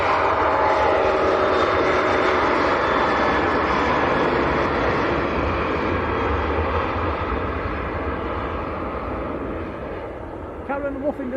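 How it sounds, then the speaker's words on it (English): SunExpress Boeing 737-800 jet departing Leeds Bradford Airport for Antalya, a loud continuous broadband engine roar that slowly fades over about ten seconds, with someone talking over it. "So that was the SunExpress just departing for Antalya, 737-800."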